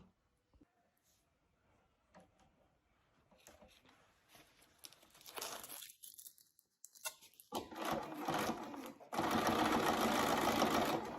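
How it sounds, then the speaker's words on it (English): Sewing machine stitching around Velcro on board shorts, starting quietly with handling noise, then running in short bursts and finally a loud, steady whirring run at the end. "we'll stitch around that Velcro"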